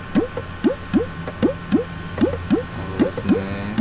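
Repeated owl-like hoot sound effect in a DJ dance song project, about a dozen short rising hoots in a steady rhythm, loud and close over faint background music.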